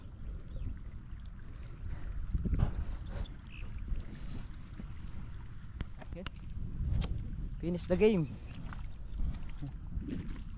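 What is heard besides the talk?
irrigation water pump engine running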